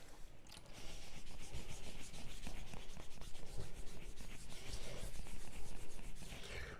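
A rust eraser scrubbed back and forth across a metal lapping plate used for flattening, giving a continuous gritty rasping rub with rapid strokes, close and fairly loud throughout.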